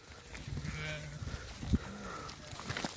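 Sheep of the Beylagan breed, with ewes and young lambs, bleat in a pen among other livestock, several calls overlapping at moderate distance under a low, steady background with brief talk.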